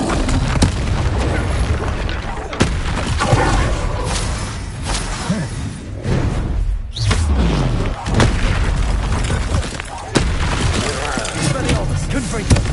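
Spell blasts in Hogwarts Legacy, a steady run of booming explosions and whooshes under dense game noise, with a player talking throughout.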